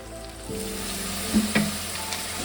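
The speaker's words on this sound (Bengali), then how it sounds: "ধনিয়ার গুঁড়ো 1 চামচ দিয়ে এটাকে আমি ভালো করে একটু অল্প জল দিয়ে কষিয়ে নেব" Coriander powder masala sautéing with a little water for a traditional prawn fritter curry, a steady close sizzle with a few soft stirring scrapes and no talk.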